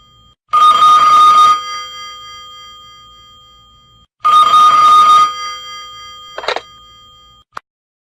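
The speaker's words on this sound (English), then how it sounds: "At that moment, the telephone rang." A telephone bell rings loudly in two long trilling bursts with quiet gaps between, then a short ring is cut off by a final click as the receiver is picked up.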